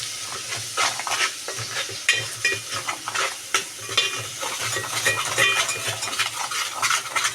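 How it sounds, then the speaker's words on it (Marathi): Yogurt whisked into fried onions and masala in a pan for egg dum biryani, with a steady frying sizzle and repeated scraping, stirring clinks of a spoon against the vessel, close up and with no talking. "आता आपण 2 चमचे दही टाकून घेतले आणि दही आपल्याला लगेच फेटून घ्यायचं आहे."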